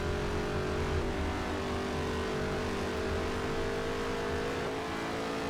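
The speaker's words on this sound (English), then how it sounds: "you can hear the engine" Race car engine in the NASCAR Heat 3 racing game, lugging at low RPM as a steady droning hum with a sustained tone, continuous and fairly loud, no speech.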